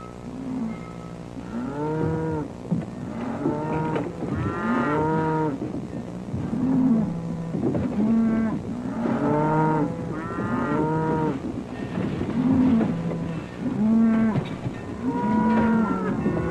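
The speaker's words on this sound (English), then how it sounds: "I hear cattle move." Cattle moo repeatedly in long, drawn-out calls over a steady low rumble, with overlapping lowing from several animals close by throughout.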